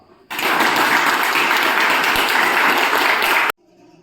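Schoolchildren in a classroom applaud their parents and teachers, a dense, loud burst of many hands clapping together that starts abruptly, holds steady for about three seconds, then cuts off to near silence.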